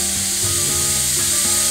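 Ghee sizzles and crackles steadily in a hot pot at the start of cooking Indian daal, a continuous close frying hiss with no pauses.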